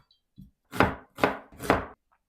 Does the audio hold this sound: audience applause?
no